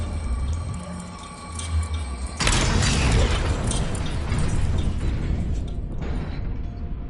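A Confringo explosive spell in Hogwarts Legacy bursts with a sudden loud blast, then a dense, roaring wash of noise that lingers for several seconds before thinning out.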